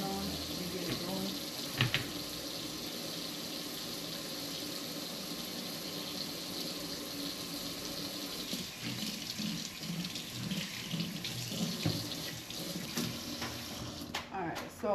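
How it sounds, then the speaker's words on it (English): A kitchen sink tap runs steadily while hands are washed under it, a constant moderate stream of water with some splashing and a few knocks, and a voice speaks over it. "Let me wash my hand."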